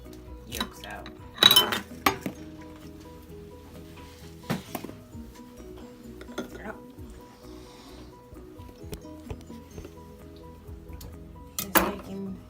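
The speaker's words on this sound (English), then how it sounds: "I'm going to crack my 3 eggs, and then I'll take the yolks out." Eggs are cracked against a bowl with sharp clinks and taps between quieter handling sounds, set in a home kitchen while pie mix is baked, with scattered bursts of near clatter.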